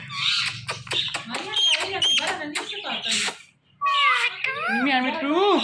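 A talking parrot imitates a cat's meow, giving a string of bright, wavering meow-like calls close up, with a short pause before another burst of cries.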